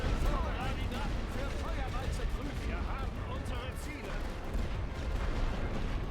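Artillery fire in the World War I strategy game The Great War: Western Front, a sustained rumbling barrage of booms and crackling blasts with whistling shells, steady and fairly loud throughout.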